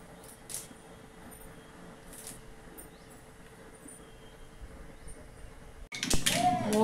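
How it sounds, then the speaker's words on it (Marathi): Mustard seeds hit two spoons of hot oil in a kadai for a village-style matki rassa: a low steady room hum suddenly breaks into a loud, close burst of crackling and popping in the final second. "मोहरी तडतडली बघा."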